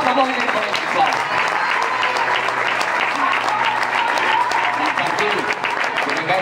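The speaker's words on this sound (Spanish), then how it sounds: "Fort aplaudiment per ells, sisplau." Steady, loud applause from a crowd at a sports club's official season presentation, honouring the coaches, sustained with no break, with faint voices mixed underneath.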